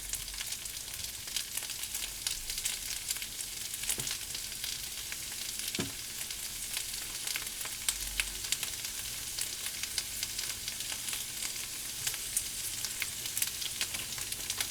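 Onions frying in a pan for a budget pantry meal, a steady broadband sizzle running continuously at moderate level with occasional soft clicks and a brief low thump, no voices.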